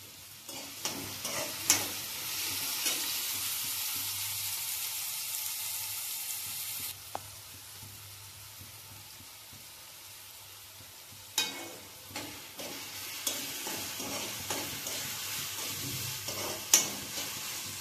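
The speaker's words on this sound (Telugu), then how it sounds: "ఉల్లిపాయలు వేగినాయి కదండి" Onions frying in a pan for a Telugu prawn, drumstick and cashew curry, a soft continuous sizzle broken by scraping stirs and utensil knocks, with a quieter stretch midway.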